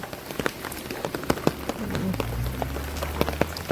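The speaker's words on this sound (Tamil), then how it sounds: "இப்போ கொஞ்சம் மழை வந்து கொஞ்சம் கூடுது" Rain patters steadily on surfaces in Jaffna during relentless rainfall, with scattered close drips over a dense hiss and a low rumble swelling as the shower grows heavier.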